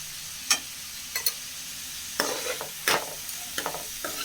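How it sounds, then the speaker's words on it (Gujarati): A spoon mixes cauliflower with turmeric in a sizzling pan, with a steady hiss running beneath a string of sharp scrapes and knocks at uneven intervals. "અને એને સારી રીતે મિક્સ કરી દઈશું।"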